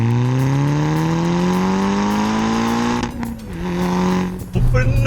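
A Volkswagen Golf R Mk6 tuned to 414 bhp revs hard, its engine and exhaust note climbing steadily in pitch before a brief dip and a shift, loud and close throughout.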